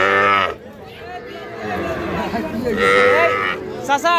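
Calves moo loudly several times close by at a cattle market, long drawn-out calls separated by people chattering in the background.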